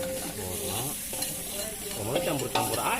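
Food fries in a pan with a constant, close hiss and crackle, while muffled voices murmur faintly in the background.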